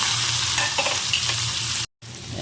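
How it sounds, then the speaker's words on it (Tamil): Chopped small onions (shallots) frying in coconut oil, a dense, loud, continuous sizzle heard up close with faint stirring, cut off abruptly by a brief gap of silence near the end. "இதில் நல்லா தேங்காய் எண்ணெயை ஊற்றணும் அதில் சின்ன வெங்காயம் கட் பண்ணி போடணும்"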